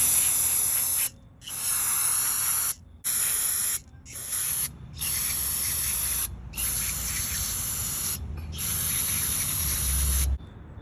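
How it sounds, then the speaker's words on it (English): Brake cleaner sprayed from an aerosol can onto a car oxygen sensor, a series of about eight loud, close hissing bursts separated by short silent pauses. "Just pretty much sprayed the brake cleaner on it."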